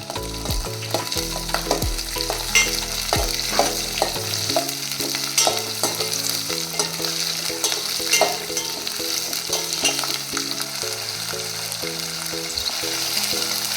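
Shallots, garlic, ginger, cumin, pepper and coriander seeds sauté in hot oil for a Chettinad fish curry, making a loud, continuous close sizzle with repeated utensil scrapes and taps against the pan.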